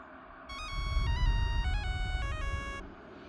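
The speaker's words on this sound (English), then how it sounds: "Rakka's cell phone rings loudly." Cell phone ringtone from the video game RAKKA: WAKE, a bright electronic melody of stepped tones over a low rumbling ambience, lasting a couple of seconds and fairly loud.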